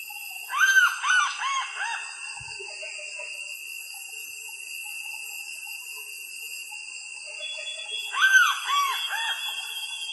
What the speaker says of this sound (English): guide at the time, written by David Bishop, described their calls as maniacal, blood-curdling screams